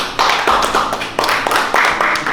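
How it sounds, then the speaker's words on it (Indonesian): A few people clap in a studio talk-show setting, in short uneven bursts of loud, close claps with brief gaps between them. "Tepuk tangan dulu dong."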